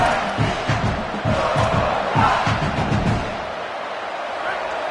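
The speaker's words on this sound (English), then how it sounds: "This crowd trying to make life miserable for this offense." Stadium crowd at a college football game between UC and South Carolina, a loud, sustained roar of many voices building to a surge and easing slightly near the end.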